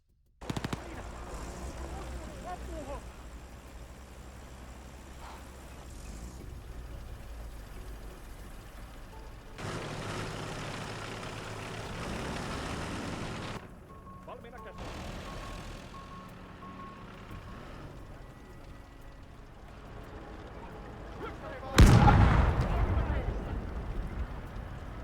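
Artillery and gunfire from a 122 gun in a war video game boom and rattle near and far, with bursts of firing, rumbling engine noise and one sharp loud blast late on, and a voice speaking over the action.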